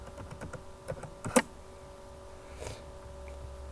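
Keys clatter on a computer keyboard as a terminal command is entered on Ubuntu, a quick run of soft taps with one sharper keystroke, close and fairly quiet, then a pause and a last faint press.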